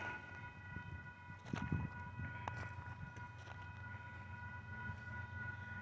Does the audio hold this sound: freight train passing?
yes